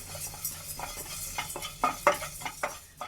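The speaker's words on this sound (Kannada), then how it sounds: "ಜೀರಿಗೆ ಹಾಕೋತಾ ಇದ್ದೀನಿ ಅರ್ಧ ಸ್ಪೂನ್. ಇದನ್ನ ಸ್ವಲ್ಪ ಫ್ರೈ ಮಾಡ್ಕೊಳ್ಳೋಣ." Cumin seeds fry in a pan while being stirred, soft sizzling under irregular scraping and light metallic clinks of a spoon against the pan, fairly quiet and close.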